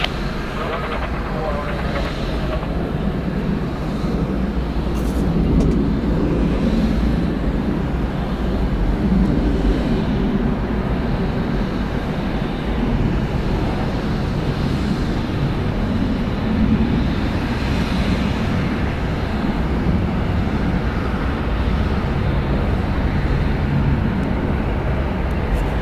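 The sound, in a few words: Delta Boeing 717 jet taking off at Atlanta airport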